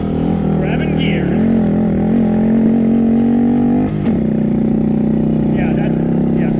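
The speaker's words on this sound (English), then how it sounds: "Grabbing gears." Engine of an RCS Backcountry Monkey shifting through gears, a steady close drone whose pitch climbs, dips briefly at a shift, then settles again.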